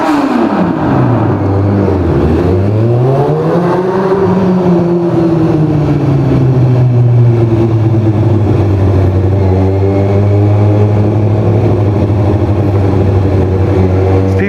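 A car engine with a new exhaust revs loudly and close: it dips, swells, then settles into a sustained droning roar, with no voices over it.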